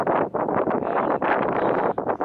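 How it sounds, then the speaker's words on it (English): Strong wind batters the microphone on a rocky trekking path toward Everest Base Camp, heavy rumbling gusts that surge and briefly drop, steady and close, with no voices. "And along this rocky latent path is extremely difficult and it's very windy"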